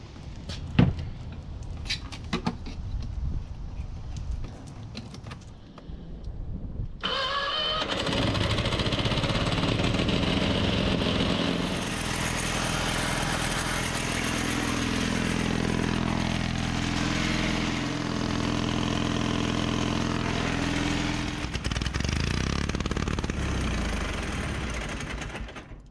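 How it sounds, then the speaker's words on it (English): A small pony starting motor on a 1950s Caterpillar tractor cranks and catches, then runs with a loud, steady, slightly uneven rumble for about twenty seconds before cutting off, preceded by a few clanks and knocks. "I was trying to start the pony motor again"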